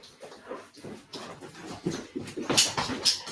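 A dog left outside on a cold night whines and gives short yips and barks to be let in, the calls coming in uneven bursts that grow louder toward the end.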